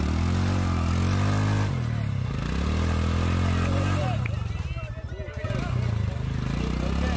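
A Royal Enfield Himalayan motorcycle climbs an off-road trail with its engine loud and close. The throttle rises and falls, and the revs dip and surge as the bike works through a rough patch.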